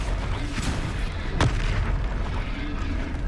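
The Confringo blasting spell goes off in Hogwarts Legacy, a loud booming burst over a dense rumbling game soundscape, with one sharp blast standing out.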